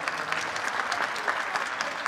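A theatre audience at a festival programme presentation claps in a dense, even burst of applause, close and steady for a couple of seconds without voices.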